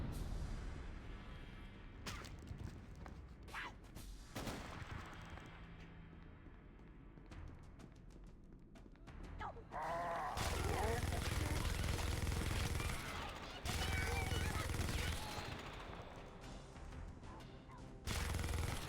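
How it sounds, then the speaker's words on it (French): Rapid sustained automatic fire from a minigun in the video game Halo, loud and continuous bursts from about ten seconds on, with earlier scattered gunfire and game effects under a voice talking. "Le minigun, meilleure arme."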